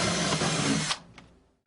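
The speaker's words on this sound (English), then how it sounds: "we'll go ahead and begin to drill our pilot holes" A power drill whirs steadily for about a second drilling pilot holes into wood for a pullout pantry, then stops and winds down, followed by a brief faint mechanical noise.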